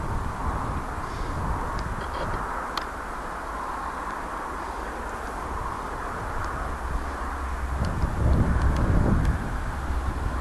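A light-engine aircraft's steady drone hums at a distance, with a low rumble swelling slightly toward the end, mixed with faint wind noise.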